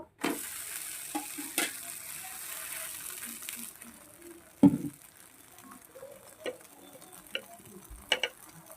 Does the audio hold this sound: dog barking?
no